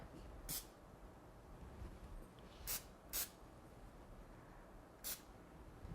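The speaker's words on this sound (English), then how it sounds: "So let me just give these a quick spritz." Four quick, sharp hissing spritzes from a can of cooking spray, two close together in the middle, over a faint steady background hiss.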